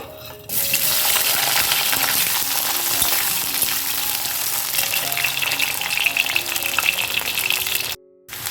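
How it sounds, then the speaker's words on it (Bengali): Potatoes hit hot oil and fry with a loud, steady, close sizzle that starts abruptly, holds for several seconds, then cuts off briefly near the end. "আলুটা ভাজতে ভাজতেই দেখো যেহেতু তেলটা গরম ছিল সেহেতু কিন্তু আলুটা খুব তাড়াতাড়ি ভাজা হয়ে গেল"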